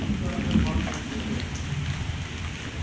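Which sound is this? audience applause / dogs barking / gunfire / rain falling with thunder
rain falling with thunder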